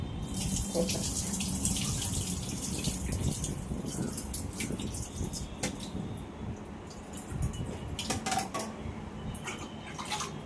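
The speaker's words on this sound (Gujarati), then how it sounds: "પાછું પાણી નાખશું બીજી વાર." Water poured and swished over fenugreek seeds being washed by hand in a bowl, a continuous close splashing stream with occasional light clinks.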